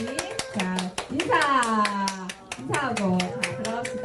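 A children's church group clapping together, a sharp regular beat of many hands heard under children singing or chanting along with an adult voice.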